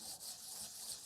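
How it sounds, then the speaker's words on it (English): Sandpaper rubs back and forth on a pivot bushing in short, rhythmic strokes, a faint close scratchy rasp with no talking. "then I'll probably move over to my higher grit sandpaper"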